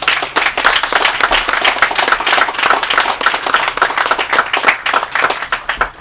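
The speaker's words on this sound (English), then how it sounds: "So how about a round of applause for all the family members?" Applause for servicemen's family members at an outdoor community event in McMinnville's Granary District, with close, distinct hand claps forming a fairly rhythmic, uneven patter that carries on throughout.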